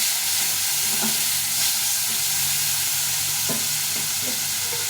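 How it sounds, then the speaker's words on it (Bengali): A large tomato fries in a hot pan with a steady, close sizzle and hiss, broken by a few soft clicks of a spoon stirring it. "এই টমেটোটা দিয়ে দেবো একটা বড় টমেটো নিয়েছি এটা টমেটো একটু বেশি দিলে ভালো লাগে খেতে ভালো করে ভেজে নেব"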